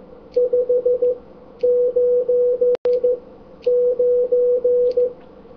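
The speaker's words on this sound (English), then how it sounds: "So the report you normally hear on CW is 599." Steady single-pitch Morse code CW tone keyed in three bursts of dots and dashes sending a 599 signal report, clear and close, with a brief click partway through.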